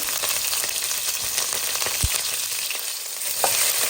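Cumin and green chillies sizzle in hot oil in a pan, a loud, continuous crackling hiss close at hand with a few brief stirring knocks and no voices.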